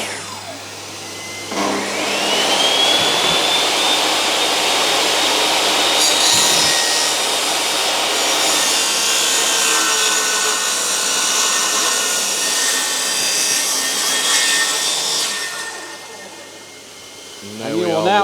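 A power saw rips down a wooden door frame beside stud work, a loud, continuous close-up roar that starts abruptly, holds steady for about thirteen seconds with slight pitch shifts, then winds down.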